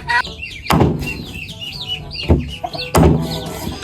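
Native laying hens cluck in repeated short calls close by, broken by a few sharp knocks and thumps, with no talk over them.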